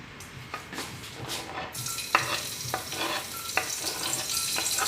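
Garlic sizzles and fries in a pot for a spinach and tomato one-pot pasta, with a steady hiss and sharp scrapes from stirring every second or so.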